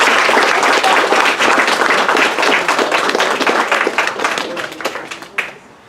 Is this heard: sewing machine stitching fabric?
no